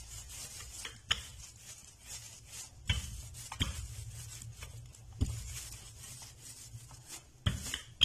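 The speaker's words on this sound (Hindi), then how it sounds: "इसको घुमा लेंगे और दूसरी साइड से बेलना शुरू कर देंगे" Makki ki roti dough rolled out between sheets of paper with a rolling pin, soft repeated rubbing and pressing strokes with a few light knocks, close and quiet.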